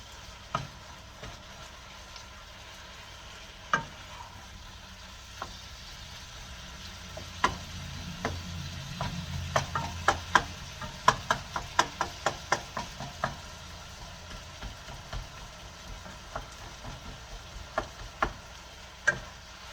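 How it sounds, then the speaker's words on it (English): Chopped ground meat browns in a frying pan with a low sizzle, while a utensil scrapes and taps against the pan in a quick run of clicks, sparse at first and then busier. "I'm going to stir this a little bit more."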